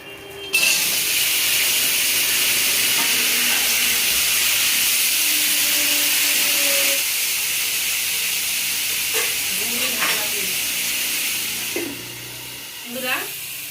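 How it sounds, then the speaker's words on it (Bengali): Cauliflower, potato and pumpkin fry together in hot oil, giving a steady, close hiss that runs almost unbroken before easing slightly toward the end, with a few faint clinks. "ফুলকপি আলু কুমড়া একসঙ্গে ভেজে নিচ্ছি"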